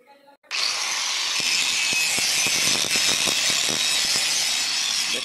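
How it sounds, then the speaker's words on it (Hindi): An electric grinder sharpens a metal chopper blade used for cutting wood, starting abruptly and holding a loud, steady high-pitched grinding whine with faint rhythmic scraping underneath, close by. "ये देखिए कत्ता को तिजाने के लिए ग्राइंडर लगाया है"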